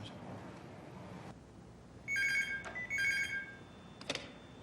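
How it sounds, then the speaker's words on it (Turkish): A telephone rings in two bursts of bright, warbling trill, each about a second long, fairly loud indoors in a Turkish drama scene, with a short clattering tone after, and no one speaking over it. "Telefon sana."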